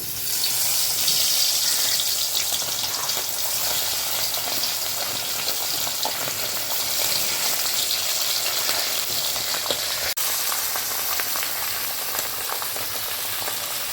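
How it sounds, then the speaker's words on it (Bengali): Pabda fish frying in hot mustard oil, a steady close sizzle and crackle that holds evenly throughout with no voices. "তেলটা গরম হয়ে গেছে এখন মাছটা দিয়ে দিব"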